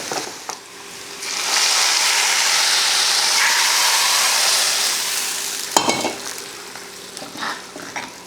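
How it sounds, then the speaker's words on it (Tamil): A hot tempering is poured into tomato kuzhambu on a switched-off stove, setting off a loud, steady sizzle that swells and holds for several seconds, followed by a clatter of the pan and softer bubbling, with no talking. "இப்போ அடுப்பை ஆஃப் பண்ணிவிட்டு தாளிப்பை ஊற்றிடலாம்."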